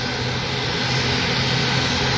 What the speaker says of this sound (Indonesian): Pesawat Wings Air dengan tipe ATR 72-600 termasuk pesawat baling-baling turbo